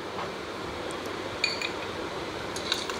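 A metal spoon stirs fried okra with red chili powder in a pan, making a few light clinks and taps against the cookware over a soft, steady background, with no talking.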